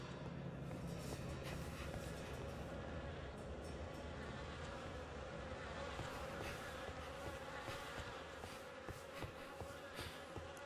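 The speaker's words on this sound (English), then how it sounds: "The air is heavy with the stink of rot and the buzzing of those damned insects." Swarming insects buzz continuously in the Fidelio Incident video game, a dense droning hum with flies and wasps close by, steady and unbroken for about ten seconds.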